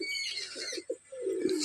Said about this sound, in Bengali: এটা দেখুন আমার কবুতরগুলো।